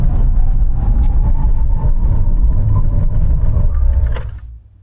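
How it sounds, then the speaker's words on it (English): A Maserati Ghibli Trofeo braking hard from 100 mph: loud continuous road and wind roar with a faint tonal hum, sustained for several seconds before fading quickly as the car comes to a stop. "Here we go, full braking."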